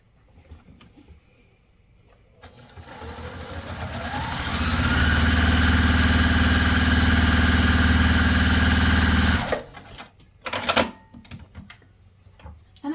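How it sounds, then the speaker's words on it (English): Sewing machine stitching cotton quilt block pieces for a sampler quilt, running in one steady mid-pitched hum for about four seconds after a slow start, with small handling clicks before and after. "So I'm going to just fold that in and fold that in, and then sew those on,"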